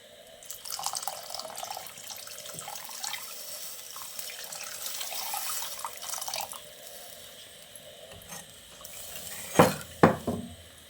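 Water trickles and splashes onto tamarind soaking in a pan. It is faint and intermittent, with a few louder pours and clatters near the end and no talk.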